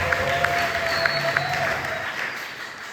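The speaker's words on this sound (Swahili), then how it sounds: "Makofi kwa Mungu" A church congregation claps together in a brief, dense burst of applause that fills the room and starts to fade toward the end.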